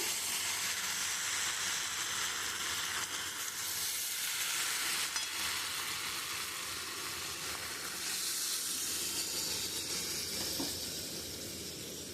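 A pumpkin and prawn curry bubbles and simmers in a pan with a soft, continuous hiss and sizzle, fairly quiet and even, its texture swelling slightly at moments.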